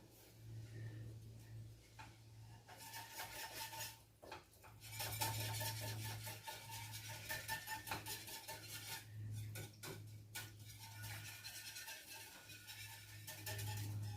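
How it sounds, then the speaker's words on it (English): A spoon scrapes and stirs along the bottom of a pan of sausage gravy, giving faint intermittent metallic scrapes and clinks over a low steady hum, with no voices. "do your scraping on the bottom. Make sure you get all that good flavor off the bottom of your pan"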